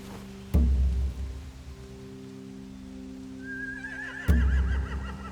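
A horse in The Walking Dead: The Final Season video game lets out a wavering whinny against a steady low hum, with two sharp thuds before and during it.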